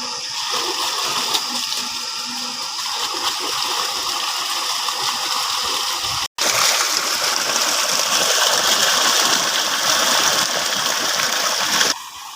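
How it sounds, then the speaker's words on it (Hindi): Water gushes at speed from a motor pump outlet in a sunny outdoor field, a loud continuous rushing splash with a brief dropout midway, carrying along stones. "कितनी स्पीड के साथ भाई साहब पानी आ रहा है"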